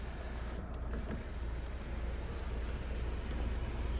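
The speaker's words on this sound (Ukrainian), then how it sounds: "Панорамний дах нас по автомобільчику працює, все відкривається, все закривається." The electric panoramic sunroof of a Kia Sorento 2.2 CRDi 4WD runs, a steady faint motor whir over a continuous low hum inside the car, even and unbroken from start to finish.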